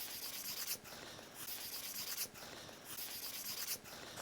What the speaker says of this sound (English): so I sanded this before with 320, and I'll just lightly touch it up again.